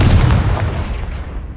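A Confringo blasting spell in Hogwarts Legacy erupts as one loud, deep boom that rumbles and slowly fades over a second and a half.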